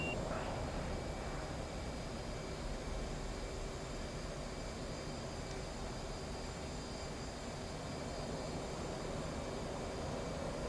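Steady, unbroken whine and rumble of a transport aircraft's engines as it taxis on a ramp in a combat flight simulation, a constant droning noise with a faint high tone throughout.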